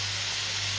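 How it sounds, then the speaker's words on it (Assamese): Chopped onions frying in a pan for an Assamese silkworm dish give a steady, close broadband sizzle and hiss with no break across the short moment. "আৰু পিঁয়াজখিনি এয়া ভাজি ল'লোঁ।"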